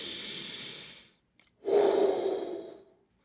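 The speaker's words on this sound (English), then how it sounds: "do some deep breathing, about 25 breaths of deep intentional breathing" Deep, deliberate breathing as a chest-opening exercise before trumpet practice: a long, airy exhale, a brief pause, then a strong, close, rasping inhale that slowly fades.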